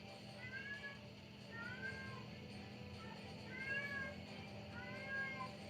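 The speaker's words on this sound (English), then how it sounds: "Kitties meowing everywhere." Several cats meow repeatedly over a low background hum, with rising and falling cries about once a second, moderately close.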